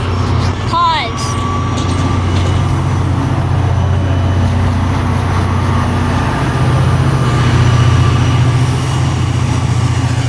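A blue train rolls past outdoors with a heavy, continuous low rumble and a brief high squeal near the start, steady and fairly loud throughout.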